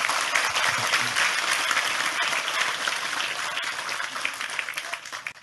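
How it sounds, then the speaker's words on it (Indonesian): A seated audience at a Maiyah religious gathering gives a steady, continuous round of applause, dense and even, fading slightly at the close. "Sekali lagi tepuk tangan lebih keras untuk Tejo."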